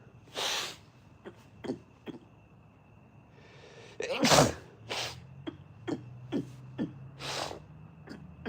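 Someone sneezes several times close to the mic, with short bursts spaced irregularly and a louder, strained sneeze near the middle. Breathy snorts and faint voice come in between.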